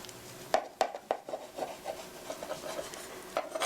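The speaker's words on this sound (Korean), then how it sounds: "칼을 세우고 톱질하듯이 살살살 썰어주시고요" A knife held upright saws through an apple from the round side in short rasping strokes, a few sharp cuts followed by steadier scraping, close and fairly quiet.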